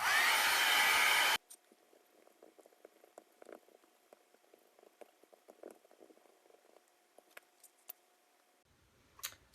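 A dryer blasts loudly at close range on freshly inked lettering for just over a second, then cuts off, leaving quiet small taps and handling sounds.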